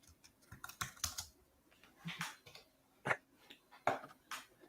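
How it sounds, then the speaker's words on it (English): Loud keystrokes on a computer keyboard come in irregular bursts of close, crisp clicks, with short pauses between flurries and no talk over them. "someone's typing really loud."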